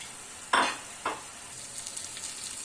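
Calamari frying in a pan, with two sharp scraping stirs early on and then a soft, steady sizzle that carries on alone.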